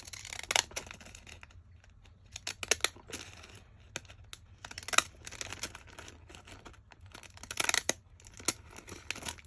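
Scissors cut paper for a small accordion paper bag, giving bursts of crisp snipping and rustling crinkles with short pauses, close and fairly quiet.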